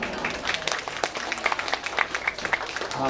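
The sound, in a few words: audience applause at a school farewell ceremony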